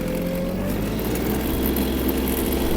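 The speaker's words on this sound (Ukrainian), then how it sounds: "трактор набирає свою максимальну швидкість" A Yanmar KE-50 mini tractor engine runs steadily and loudly close by, its drone rising slightly as it accelerates toward its 15 km/h top speed, with no voices.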